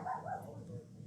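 A small poodle barks indoors, faint and somewhat muffled, in a few quick yaps during the first half second against a low background hum.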